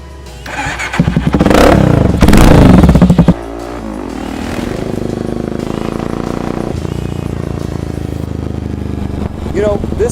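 A Motorstar Cafe 400 cafe racer motorcycle, also badged as the Mash Roadstar 400, cranks and fires up close with a loud, clattering burst of revs, then drops into a steady, throbbing idle before a final blip of throttle.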